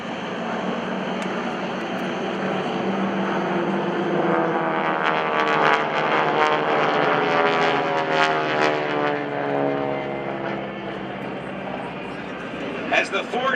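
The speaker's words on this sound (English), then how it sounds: "The Skytype Flight of 4 will roll in for a very high-angle strafe." Four propeller aircraft dive together in a steep strafing pass at an air show, a loud sustained droning roar that swells and shifts in pitch as they sweep past, with an announcer talking over it.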